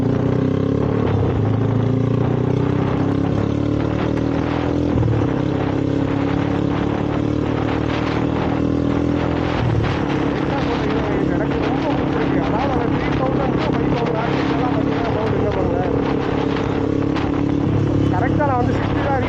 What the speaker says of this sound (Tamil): எக்ஸாஸ்ட் சவுண்டு மட்டும் நான் கேளுங்க